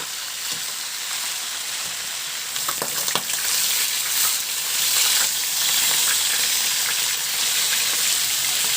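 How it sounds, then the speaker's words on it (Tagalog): Fish frying in a pan of oil gives a steady, bright sizzle that runs throughout, with a few faint clinks and stirring sounds near the start, no voices. "I-prito lang din hanggang sa medyo magkulay-pula lang o brown yung kabilang side."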